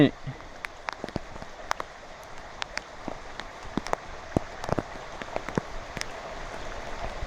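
Rain falls steadily, with scattered drops tapping and pattering close by on a surface at an irregular rhythm.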